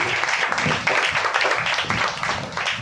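A church congregation breaks into sustained applause, a dense, even wash of clapping close to the listener that holds steady without a pause.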